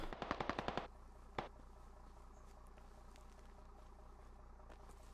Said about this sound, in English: everyone is so bored, they're shooting a distance here